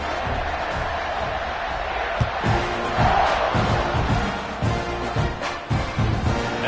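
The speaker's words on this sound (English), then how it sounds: "this crowd is buzzing after that last score" A stadium crowd in an NCAA football video game buzzes steadily, a dense roar of cheering and shouts that swells and dips around a few sharp thuds, filling the space at a constant loud level.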